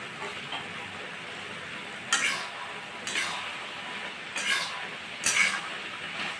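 A prawn and bottle gourd curry is stirred in a pan: four short scraping strokes rise over a soft, steady sizzle.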